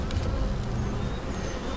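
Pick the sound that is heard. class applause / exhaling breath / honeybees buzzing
honeybees buzzing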